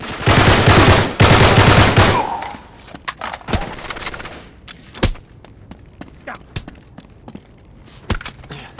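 Dense bursts of automatic gunfire fill the first couple of seconds in the video game Uncharted 3: Drake's Deception, then scattered single gunshots and thuds follow at intervals, loud and close.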